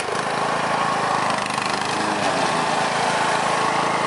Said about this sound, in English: she's gonna be mowing the lawn